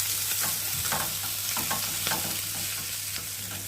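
Amodi fish frying in hot oil in a pan, a steady close sizzle with scattered crackles and pops throughout, no voices.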